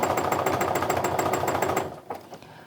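A sewing machine free-motion quilting a heart meander design, its needle hammering in a fast, even rhythm for nearly two seconds before stopping, followed by a few soft handling bumps.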